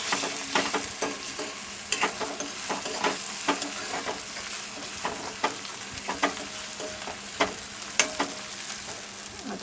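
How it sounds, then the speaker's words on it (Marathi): Onion softening in hot oil for an egg curry, a continuous near sizzle punctuated by regular stirring scrapes and spatula knocks against the pan, with no talking. "कांदा चांगला नरम करून घेते."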